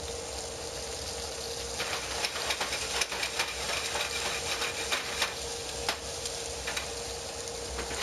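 Pork loin sears in a hot pan, a steady bright sizzle and crackle with occasional sharper pops and stirring clatter, moderately loud and continuous with no talking.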